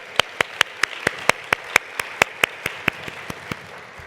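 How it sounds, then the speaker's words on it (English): At a women's charity fundraising luncheon, a small group claps in distinct, evenly spaced beats, about eighteen sharp slaps in a steady rhythm, close and clear over a quiet room. "I deserve the clap."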